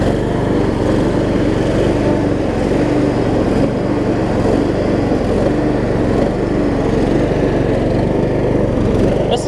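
A Troy-Bilt Horse riding mower with a Kohler Courage engine runs close by after carburetor work, a loud, steady, even drone throughout with no pauses and no talk.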